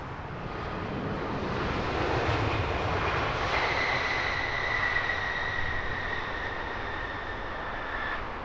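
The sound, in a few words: British Airways plane at Heathrow Airport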